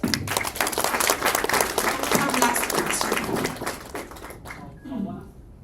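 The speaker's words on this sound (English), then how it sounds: "Let's give them a round of applause." An audience applauding panelists at a founders panel, a fairly faint wash of clapping that holds for several seconds and then trails off, with a voice speaking near the end.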